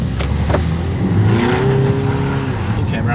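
A car comes around fast past a BMW 223i Active Tourer on the road, heard as a loud engine surge and rush of passing noise over steady cabin rumble, with faint voices.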